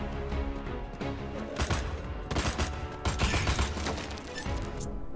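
Rapid automatic gunfire rattles through a Suicide Squad video game battle, a dense, loud, continuous burst of shots with crashing impacts lasting several seconds.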